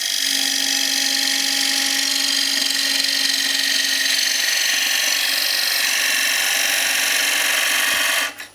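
A quarter-inch gouge cuts a wooden rice bowl spinning on a lathe, a steady, close, high hiss and whine that runs without a break before stopping abruptly at the end.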